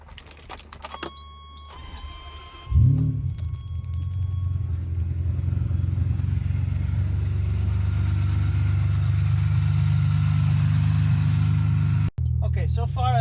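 A Ferrari 456 with its 5.5-liter V12 cranks briefly, then catches with a loud burst and settles into a deep, steady idle close by. The rumble holds level to the end, with one short dip near the finish.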